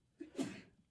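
A single short human sneeze heard on a live morning radio broadcast, brief and fairly soft, with a small intake just before the main burst.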